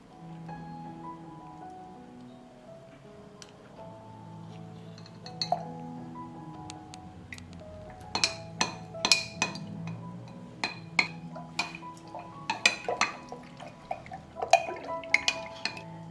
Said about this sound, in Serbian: 2 supene kašike razmutit ću u 700 ml vode